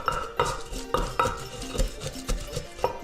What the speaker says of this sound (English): Give it a stir, because we wanna get that to start dissolving in there.